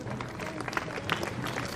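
A seated audience at a pre-marital counseling event claps during a poster release, a dense, continuous burst of applause that fills the short moment.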